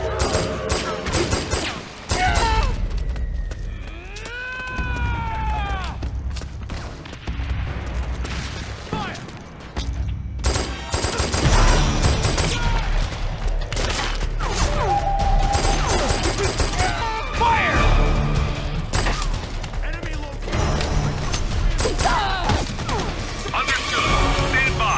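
Suppressing gunfire crackles in Metal Gear Solid 4 as loud overlapping bursts, crashes and impacts rattle on in dense volleys, with shouted in-game voices and a whining sweep early on.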